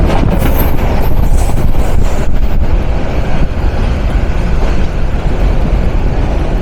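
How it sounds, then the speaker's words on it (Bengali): Padma Express, an intercity train with Chinese and Inka coaches, rolls past a rail crossing at night near Nakhalpara, Dhaka, a loud continuous rumble of wheels and carriages with brief high squeals early on. "রাজশাহীর জনপ্রিয় আন্তনগর Padma express, the night queen of Bangladesh railway West"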